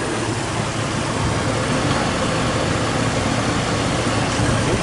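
A car engine runs steadily at idle during an AC refrigerant top-off with R134a, a constant broadband rumble and hiss that stays even and close throughout, with no talking.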